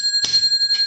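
A short notification bell chime rings out brightly with a sustained ring and a second lighter strike near the end, close and clear with no talking.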